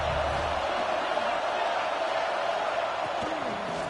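A college football stadium crowd roars in a constant wash of cheering and noise, loud and unbroken, with a commentator talking over it throughout.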